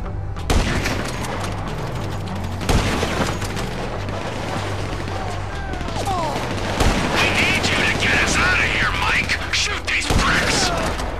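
Sustained gunfire in GTA V, with a busy run of close shots and bursts over a constant low game rumble and scattered mechanical clatter.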